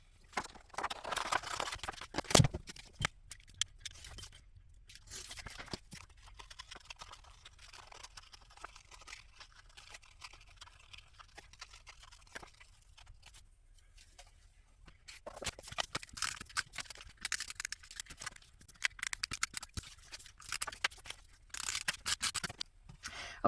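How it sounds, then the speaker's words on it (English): Scissors cut a paper piece out of a Christmas card cut-and-create book, heard as close, repeated snipping and crisp paper rustle in bursts, quieter through the middle and busier again toward the end. "So I'm going to cut this piece out."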